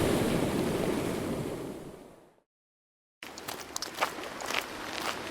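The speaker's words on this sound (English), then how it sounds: "When Elijah hit the water with his coat, it split." Story sound effect of river water splitting apart: a loud roaring rush of surf and water fades away into silence, then lighter splashing and trickling water follows.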